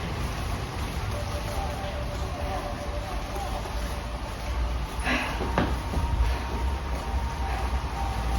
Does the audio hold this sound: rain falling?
yes